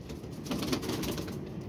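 Female pigeons kept by a fancier coo softly and low, with a steady murmur of cooing under faint background hiss and no talk.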